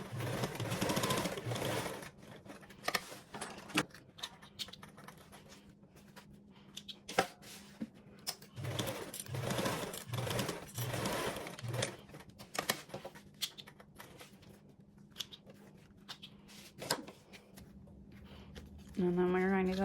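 A sewing machine bastes along two fabric edges in quick rattling bursts of stitching, starting and stopping several times up close, with a person's voice heard only faintly at the very end.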